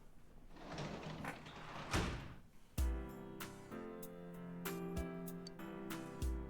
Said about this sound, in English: You hear someone at the front door.